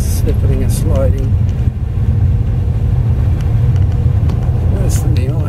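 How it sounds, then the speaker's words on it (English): A car drives on a slushy, snow-covered highway in northern Canada in March, giving a steady, loud low rumble of engine and tyre noise that runs the whole time, with brief speech over it. "the slushy road is really hard to drive on. It's the worst type of road. The tyres are all over the place, slipping and sliding."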